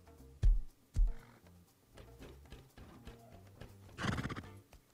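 Horse in the survival video game Rust whinnies near and loud, with hoof clip-clops and two sharp thumps early on, then a longer bright neigh toward the end over a low game backdrop.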